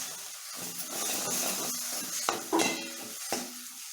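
Gongura chutney with moringa leaves being stirred in a pan after a drop of oil is added, with soft scraping and a faint sizzle broken by a few sharp clinks of a spoon against the pan.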